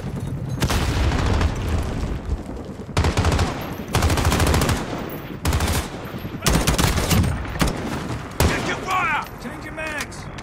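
Bursts of automatic machine gun fire in the video game Call of Duty Modern Warfare multiplayer, loud, rapid crackling volleys in several long stretches separated by short gaps, with booming impacts mixed in.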